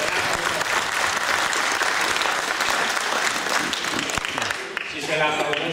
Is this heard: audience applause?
yes